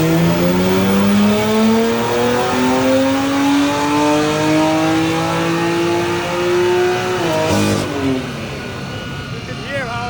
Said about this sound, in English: You can hear how the intakes suck up all the air from the front.